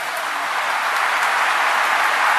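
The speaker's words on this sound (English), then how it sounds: "And you can see the crowd start to applaud." A funeral congregation breaks into sustained applause, a dense, loud wash of clapping that holds steady throughout without pause.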